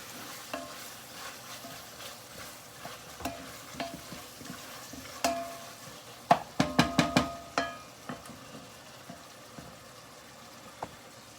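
Onions fry in a pan with a soft continuous sizzle, broken by a burst of scraping and stirring strokes partway through, with no talk.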